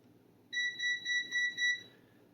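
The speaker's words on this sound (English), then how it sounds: "And the meter beeping at me." A multimeter used while wiring up a vintage Pioneer SX-1000TW receiver under restoration gives a steady, high electronic beep lasting about a second and a half, pulsing slightly in loudness over a quiet background hum.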